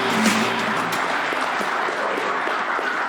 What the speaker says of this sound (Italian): Un applauso alla Lavagnese.